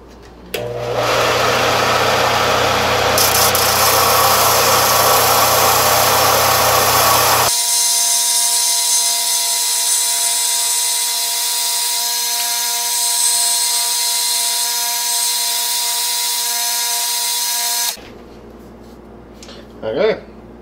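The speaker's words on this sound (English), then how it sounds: "I can just use my sander for that." A power sander shaping wood runs loud and close for about seventeen seconds, first with a rough gritty grind against the workpiece and then a steadier whine before it stops abruptly.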